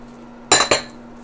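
A spoon clinks twice against a bowl or jar while padek is added for Lao bamboo shoot soup, Kaeng Nor Mai. The two bright metallic taps land close together over a low steady hum.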